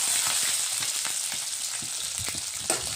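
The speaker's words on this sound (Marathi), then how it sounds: "आता कांदा टाकत आहे आणि 5 ते 6 मिरच्या घेतलेल्या होत्या मी।" Onion and green chilies drop into a hot garlic and cumin tempering, a continuous close crackling sizzle with scattered pops and light stirring, no voices.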